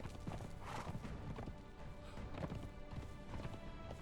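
Horse hooves clop in the Conan Exiles game as a mount runs and jumps, a steady, fairly quiet rhythm of hoofbeats with scattered knocks, and no talking.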